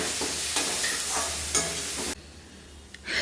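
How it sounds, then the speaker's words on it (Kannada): Tomatoes frying with salt in a hot pan sizzle loudly while a spoon stirs them in rhythmic scraping strokes, then the sizzle drops away abruptly to a quieter hiss with a few faint clinks, close up and without speech. "ಇವಾಗ ಇದಕ್ಕೊಂದು ಸ್ವಲ್ಪ ಟೊಮೊಟೊ ಟೊಮೊಟೊ ಹಾಕ್ಕೊಂಡು ಫ್ರೈ ಮಾಡ್ಕೋಬೇಕು"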